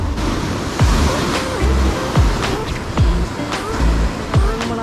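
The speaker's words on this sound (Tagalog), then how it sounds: "Yan ang alon. Nakakatakot naman yan." Sea waves roll and crash in a steady wash of surf after heavy rain, each surge rising and falling in turn, loud and close with wind noise.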